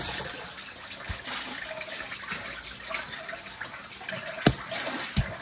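Boiled cured pork (larded bacon) lifted from the pot and rinsed under running tap water in a kitchen, a steady close splashing stream with a few sharper clatters and splashes.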